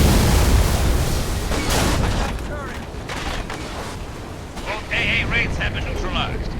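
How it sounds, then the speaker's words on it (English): A heavy explosion of a Phantom dropship in Halo Infinite booms and rumbles, followed by crackling debris and further blasts, loud and dense like game sound effects. "especially when it comes to this explosion when the Phantom is destroyed"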